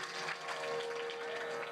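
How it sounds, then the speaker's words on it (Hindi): Audience clapping at a Bhagavat Katha gathering, a steady, dense wash of many hands applauding together throughout, with a faint sustained tone running underneath. "ताली बजाइए, इनके लिए भी।"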